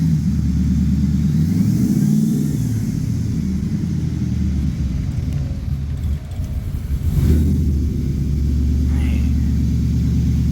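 A Ford SVT Lightning pickup truck warming up, its engine giving a loud, steady low rumble close by, with a brief rise in revs partway through before settling back to a constant drone.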